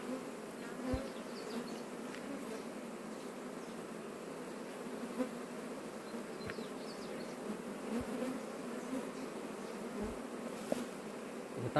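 Bees swarm around a wooden log hive, a continuous soft droning buzz with small knocks and scrapes close by, no voices.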